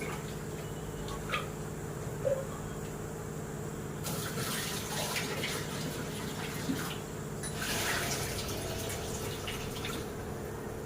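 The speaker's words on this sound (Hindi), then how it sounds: "तो ये दाल अच्छी तरह से धुल गई है" Lentils being rinsed in water in a kitchen, with steady running and splashing water throughout and fuller gushes of pouring and swirling around the middle and near the end.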